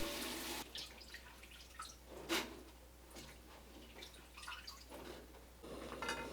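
Water drains and drips from rinsed, blanched garlic scapes resting in a sieve, a faint, uneven trickle with scattered drips close by and no voices.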